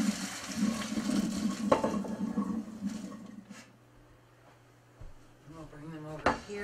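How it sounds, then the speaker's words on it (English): Cooked noodles pour out with a rushing splash of water, followed by quieter drips and a few clunks of the pot, while a person talks in the background. "Noodles are ready, so we'll drain those."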